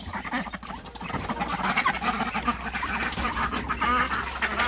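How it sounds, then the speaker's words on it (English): Ducks and geese honk and quack in a busy overlapping chorus as a group of ducks is released near floodwater on a woodland smallholding, steady and fairly loud throughout with no talk. "now it is time to release the ducks"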